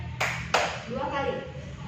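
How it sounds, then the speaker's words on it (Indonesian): Students in an economics classroom clap their hands twice, two sharp separate claps close together, followed by faint voices murmuring in the room. "kalian tepuk 2 kali"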